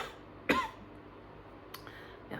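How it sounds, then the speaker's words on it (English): One sharp, close cough breaks a quiet room, followed by a couple of softer throat sounds. "I've got a bit of a cough at the moment."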